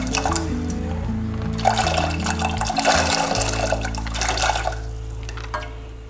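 Water pours steadily into a cooking pot as white beans are readied for boiling, a continuous splashing fill that stays close and fairly loud from start to finish.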